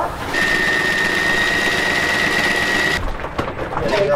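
A sewing machine stitching with heavy thread runs steadily and loudly with a constant whine for about three seconds, then stops, leaving small handling clatter behind.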